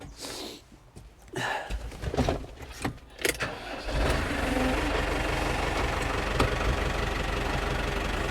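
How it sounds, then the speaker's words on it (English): A cold shredder engine cranks with a few uneven bursts and clunks, then catches and settles into a steady, loud running rumble. "we've got a cold engine again. We'll just give it 20 seconds."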